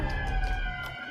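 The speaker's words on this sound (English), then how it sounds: "That's a fire alarm." A school fire alarm going off, a steady electronic alarm tone with a harsh harmonic whine that holds continuously through the short stretch, fairly loud and alone.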